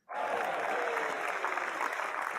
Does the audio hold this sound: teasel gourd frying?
no